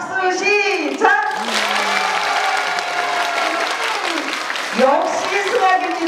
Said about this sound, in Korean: 박수 시작!